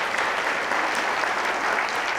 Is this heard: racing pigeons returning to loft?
no